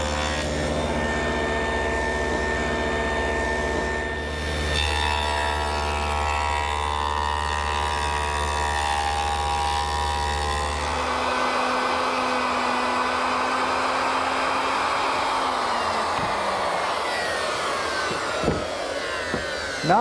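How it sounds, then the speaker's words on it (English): A table saw fitted with a stacked dado head set for a 1/4 inch width runs loud and steady, then cuts a groove in a wooden side panel, the pitch dropping under load before spinning down near the end. "To make the groove in the side panel, I've set up the stacked dado head cutter again for a 1/4 inch width"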